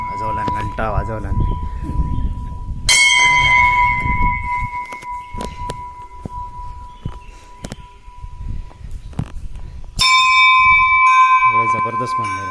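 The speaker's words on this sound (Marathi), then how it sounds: "वाजवला घंटा वाजवला." A temple bell in a Konkan village is struck twice, each a loud bright clang with a long ringing decay, while people talk around it.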